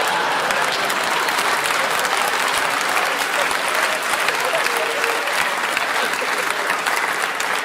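Sustained applause from a comedy club audience at a stand-up show, many hands clapping in a thick, even roar that holds steady for the whole stretch, with a few faint voices mixed in.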